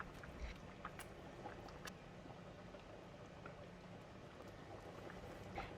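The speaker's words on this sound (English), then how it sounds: "After 3 minutes, the curry is boiling vigorously" Fish curry with coconut milk, tomatoes and vegetables boils vigorously in a pot, giving a faint, steady bubbling with scattered soft pops throughout.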